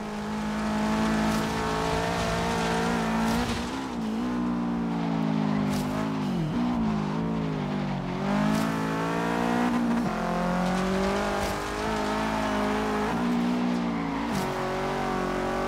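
A 2015 Subaru WRX STI driven in Forza Horizon 3 on a coastal forest trail, its engine droning and rising and falling through gear changes with tire noise underneath, loud and continuous throughout.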